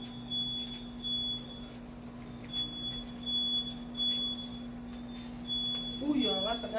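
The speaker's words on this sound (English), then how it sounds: "I forgot to close the sliding door and the house started beeping." A house fire alarm beeps in repeated short high bursts, roughly one per second, steady and fairly faint against outdoor background noise, with a voice briefly heard near the end.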